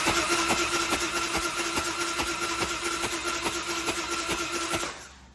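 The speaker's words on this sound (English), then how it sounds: "I'll run the engine a few seconds to blow out any extra oil that I had sprayed in before" Harley-Davidson Screamin' Eagle Fat Boy motorcycle engine run for a few seconds during a cold compression test, a close, rhythmic, loping V-twin beat that cuts off abruptly at the end.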